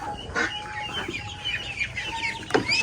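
Chickens of a mixed Chinese and native breed clucking on a farm, several short close clucks and squawks in quick succession, fairly loud with no talk.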